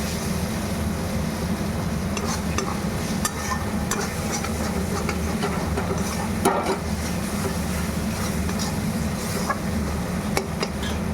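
Metal spatula scraping and chopping whole green chilies in a hot pan, steady sizzle of frying with repeated clinks of metal on metal throughout.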